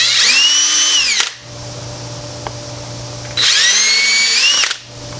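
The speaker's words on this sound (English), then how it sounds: "This being plastic, it's really easy to drill through." Two loud bursts of a power drill with a very thin bit whirring up and winding down, drilling pilot holes in plastic for tweeter mounting in a Toyota Tacoma, separated by a quiet pause, close by.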